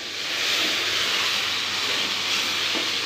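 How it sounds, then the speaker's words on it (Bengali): Beef kabab pieces sizzle loudly in a hot pan as they are stirred, a continuous close hiss of frying with a faint scrape near the end and no speech. "আমি এটাকে নেড়ে দিলাম, এখন একটু ঢেকে রাখবো।"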